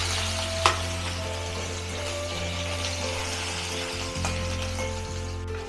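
Potatoes slipped gently into hot oil with tempering spices for a paneer posto curry, giving a steady continuous sizzle with a brief clatter near the start and a low hum underneath.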